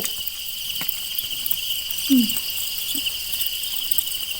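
Large crickets (jing krong) on a Thai cricket farm, a steady, shrill high-pitched chirring drone continuing throughout, with a few faint knocks and a brief low squeak nearby.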